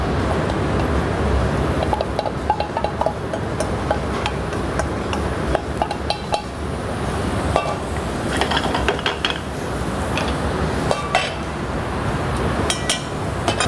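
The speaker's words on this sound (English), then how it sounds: "Okay, need to fry the garlic chives." Garlic chives frying in a little oil in a hot pan for a compressed beancurd salad: a steady, close, broadband sizzle with occasional light clinks of utensils against the pan, with no talk.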